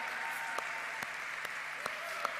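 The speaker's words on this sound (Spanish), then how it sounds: "Hay un aplauso grandote." A church congregation applauds in a dense, steady wash of clapping that holds evenly throughout, heard at a moderate distance with a few sharper claps standing out.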